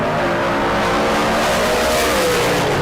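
A big, heavy Ford Thunderbird stock car roars down a drag strip at bracket races in Phoenix, Arizona, a loud, dense engine and tire roar filling the whole moment, with a faint tone sliding downward near the end.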